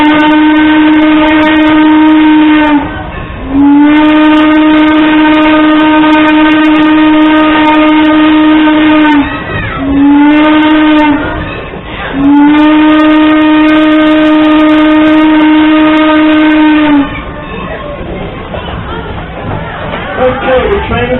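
A Strasburg Railroad train sounds its whistle in long, loud, steady blasts broken by short gaps, a harmonic tone over the rumble of the running train, with crowd chatter underneath and the whistle ending a few seconds before the close.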